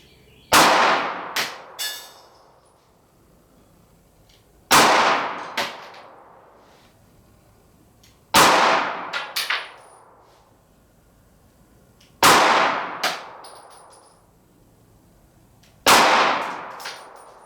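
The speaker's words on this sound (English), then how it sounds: "5 shots, Glock 19, and then we'll have the wrap up." Five 9mm +P shots from a Glock 19 pistol fired into ballistic gel with a denim layer, each a sharp, loud crack with a brief ringing tail, spaced roughly four seconds apart with no talk between them.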